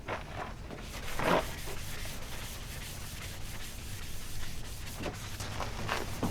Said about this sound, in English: Now you got a bunch of sanding to do